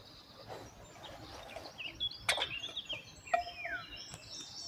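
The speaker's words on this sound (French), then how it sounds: "je ne savais pas quel était cet oiseau et maintenant je le sais, c'est un loriot jaune." Eurasian golden oriole calling outdoors, a few short fluting and harsh notes rising over a steady hiss of ambient noise, moderately distant, with no talking.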